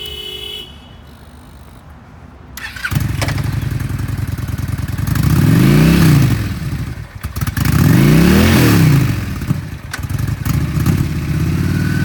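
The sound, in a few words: Honda Shadow Aero 750cc V-twin cruiser motorcycle engine revving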